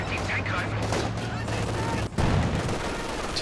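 Bursts of machine gun fire crackle in a Company of Heroes 2 four-versus-four battle in Lienne Forest, rapid overlapping shots and battle noise running under commentary, with a sharp loud burst near the end.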